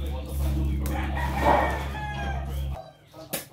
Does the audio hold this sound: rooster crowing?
yes